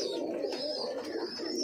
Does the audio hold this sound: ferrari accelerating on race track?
no